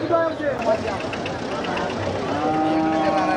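Cattle moo at a busy cattle market at Melur, long low calls drawn out over a constant crowd murmur and idling engine hum, with people talking nearby.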